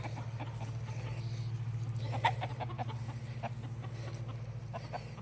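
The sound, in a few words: chickens clucking on a farm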